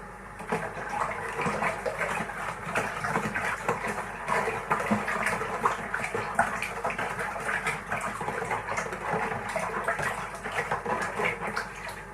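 Hot water from a kettle pours steadily into a container with hot cordial, a continuous close gushing and splashing that stays fairly even throughout, with no voices.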